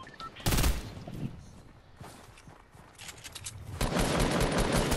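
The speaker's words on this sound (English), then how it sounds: "Who is shooting?" Bursts of video game gunfire: a sharp loud volley, then scattered shots, and finally a sustained rattling barrage that builds toward the end.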